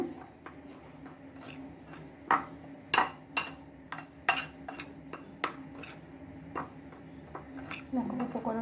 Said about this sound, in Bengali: শুকনো উপকরণগুলো আগে আমি ভালোভাবে মিশিয়ে নেব